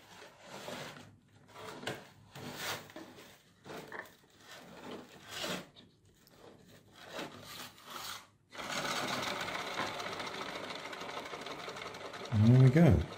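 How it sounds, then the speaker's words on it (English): A rubber band is wound around the back axle of a three-wheeled cereal box car, giving short scratchy rubbing bursts up close, then a steadier continuous whirring stretch before a low thump at the end. "around the back axle, wind it up so it goes over itself"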